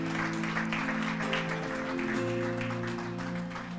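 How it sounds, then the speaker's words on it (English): A church congregation clapping hands in praise at Sunday morning worship, steady dense clapping under sustained organ or keyboard chords and held musical tones. "give the Lord one more big hand clap of praise"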